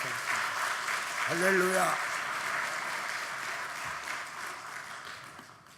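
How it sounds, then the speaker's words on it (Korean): A congregation at a Sunday church service claps steadily to welcome the elder pastor, a broad sustained wash of applause while a voice speaks briefly over it in the middle. "이제 박수로 다 함께 원로 목사님 맞아주시면 감사하겠습니다."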